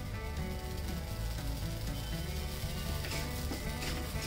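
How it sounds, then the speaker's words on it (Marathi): Amaranth (rajgira) grains crackle and pop as they dry-roast in a pan, with faint continuous sizzling and small sharp pops heard beneath a louder hum. "चटचट असा आवाज यायला लागलाय बघा तो।"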